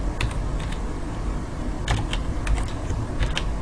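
Typing code into MATLAB on a computer keyboard: a close, quiet patter of key clicks coming in short bursts over low room noise, with no voice.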